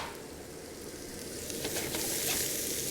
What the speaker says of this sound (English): So we have our onions, and they go into the pan, into the same pan as the lamb